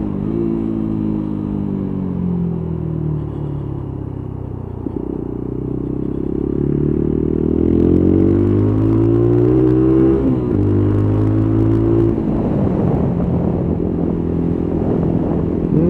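A Lexmoto Tempest motorcycle ridden along a road, its small engine droning steadily with rising and falling pitch as it accelerates through gears and revs hard, heard close up with wind rush and no speech.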